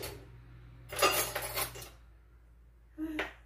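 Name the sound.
getting baking powder and a teaspoon, utensils clinking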